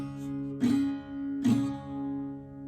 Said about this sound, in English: So I'm just going to call this a C prime chord,